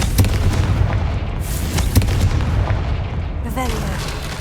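A Confringo fire spell goes off in Hogwarts Legacy, with a run of heavy, booming blasts and crackling bursts close up, ending in a brief rising magical whoosh.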